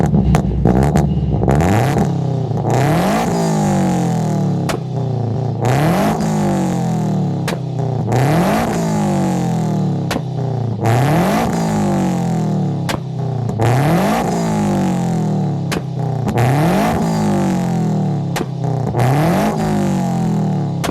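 A boosted Scion FR-S accelerates hard again and again, each loud, close engine climb rising sharply and cutting off at gear shifts in a repeating rhythm, with no talk.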